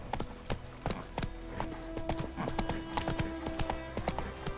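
Horse hooves clip-clop in a fast, steady galloping rhythm in The Witcher 3 video game, close and moderately loud with no talk.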